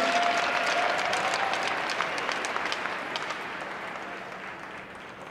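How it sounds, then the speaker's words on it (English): Crowd applause for students at an RPI men's hockey game against Colgate, a broad steady wash of clapping in a large arena that slowly tapers off over several seconds. "Let's have a nice round of applause for these great students."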